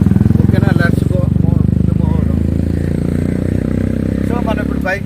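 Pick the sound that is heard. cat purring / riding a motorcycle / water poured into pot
riding a motorcycle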